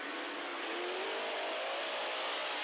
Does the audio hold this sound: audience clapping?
no